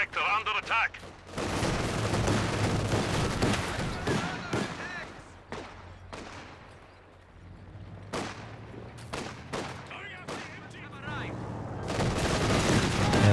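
Machine guns and other weapons rattle in a Company of Heroes 2 battle, bursts of rapid gunfire and sharp reports scattered across a busy, fairly loud mix, with someone commentating over the top.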